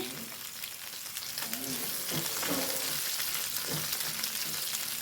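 Dried red chillies sizzle in a pan for a chutney, a loud continuous close-up crackle with a few soft stirring scrapes breaking through the frying.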